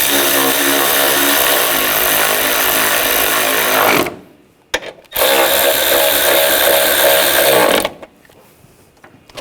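A power tool drives bolts down on the engine of a 2000-2006 BMW X5 3.0L inline-six, two loud close-up whirring bursts of a few seconds each separated by a short pause.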